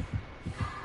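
Low, muffled heartbeat thumps from the horror survival game Dead by Daylight, signalling a nearby killer, with three soft pulses in under a second and no talk.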